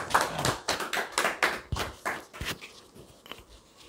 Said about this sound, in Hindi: जनाब तालियों से इस्तक़बाल कीजिए।